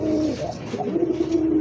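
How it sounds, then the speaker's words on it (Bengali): Pigeons coo in a steady, low, rolling murmur. They are khaki deshi pigeons, close to the mic and continuous, with soft overlapping calls and no talk. "দেখছেন কবুতর"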